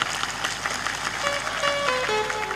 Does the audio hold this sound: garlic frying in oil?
no